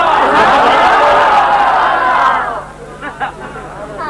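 At a religious gathering, a large crowd shouts together in one loud, sustained collective cry that fades after a couple of seconds into scattered murmurs and chuckles.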